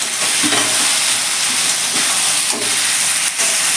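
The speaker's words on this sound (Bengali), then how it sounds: "এবার সব একসাথে ভালো করে মশলাটাকে কষাবে" Potato, pumpkin and pointed gourd stir-fried with spices make a loud, steady sizzle and hiss, with a few soft scrapes from stirring, close and continuous.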